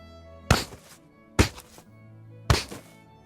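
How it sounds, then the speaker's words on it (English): Body punch and chest impact effects for the Braid game: three heavy, dull thumps with short decays, close and punchy, spaced roughly a second apart with quiet gaps between. "we also added a lot of body punch and chest sounds like this"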